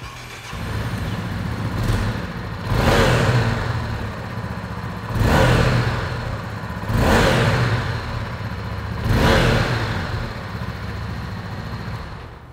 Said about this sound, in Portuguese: Vamos ouvir um pouquinho o som desse motor?